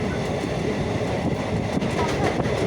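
A train runs along a railway line below a viewpoint on a foggy morning, giving a continuous rumbling roll with faint rhythmic clatter of wheels, heard from some distance as a steady wash of noise.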